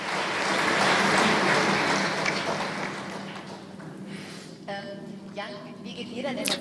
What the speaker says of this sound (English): Yeah, this is worth an applause.